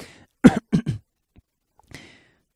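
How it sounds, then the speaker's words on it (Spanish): A short, sharp cough, a voiced burst followed by two quicker hacks, then a faint throat clearing a moment later, close and isolated. "El buen asistente fingió toser de inmediato."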